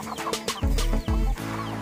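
Native chickens cluck close by in a short burst of throaty, repeated clucks.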